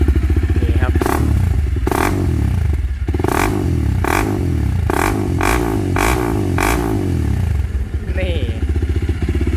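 A Honda CRF300L motorcycle with an Akrapovic exhaust idles with a rough, throaty note, punctuated by several sharp revs that rise and fall, close and loud.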